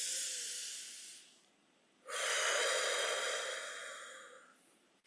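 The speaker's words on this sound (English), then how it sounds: "Let's take one more nice deep breath in and out." Slow, deep breathing during a seated meditation, with a long airy inhale, a brief pause, then an extended exhale, close and soft.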